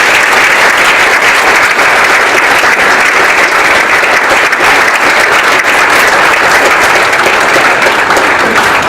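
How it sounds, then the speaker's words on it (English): Steady, dense audience applause fills a competition finals event, many hands clapping continuously and loudly throughout with no talk over it. "how about another nice round of applause for everyone who helps to make this program a success"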